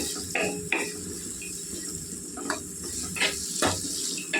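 Spoon stirring a potato and raw chana dal masala curry with onions in a pan, soft sizzling underneath and several scraping, clinking stirs spaced across the moment, close and moderately loud.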